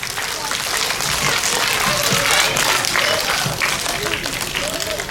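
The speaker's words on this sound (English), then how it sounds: "Give a big round of applause for them." Loud, continuous applause from a school audience, dense clapping with faint voices mixed in, holding steady from start to finish.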